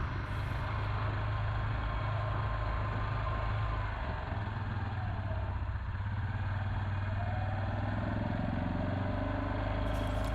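Four-wheeler ATV engines run near a trailhead in snowy mountain country, a steady close rumbling idle with low throbbing and a passing rise in pitch midway, continuous and without talk.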